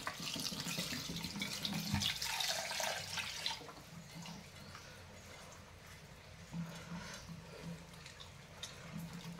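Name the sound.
water poured into pot of washed rice for cooking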